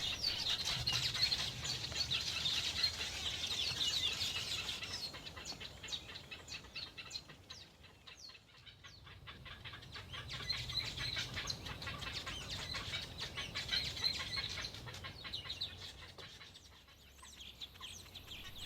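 A nesting colony of black-headed herons, Cape weavers and reed cormorants high in a grove of eucalyptus trees keeps up a dense chatter of chirps, clucks and squawks. The calls swell and fade in waves at moderate distance.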